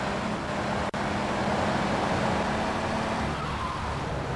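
Steady engine drone of a car driving in GTA III, constant and mid-loud, with road noise and one brief click partway through.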